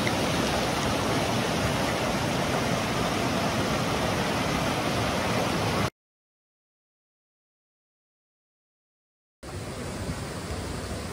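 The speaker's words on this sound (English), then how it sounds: "I'm being rewarded with all these waterfalls" Waterfalls and a rushing stream pour in the cold rain along a backpacking trail, a loud, dense, unbroken roar that cuts to total silence for several seconds before resuming.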